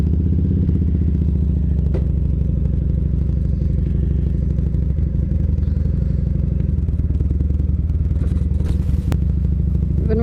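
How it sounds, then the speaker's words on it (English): A motorcycle is ridden in the rain, producing a loud, continuous low engine drone mixed with rushing road and wind noise, with a few clattering knocks near the end. "I gotta get used to riding a real motorcycle again."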